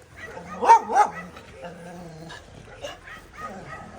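A dog in a Portuguese village among olive trees gives two quick, fairly close barks, then quieter yips and whimpery sounds trail off against a quiet background.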